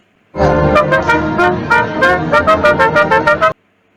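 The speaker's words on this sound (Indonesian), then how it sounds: "Contoh yang kedua yang dimainkan dengan ditiup adalah terompet." A trumpet blown loud and close, starting with one long brassy held tone and breaking into a quick run of short repeated blasts before it stops abruptly.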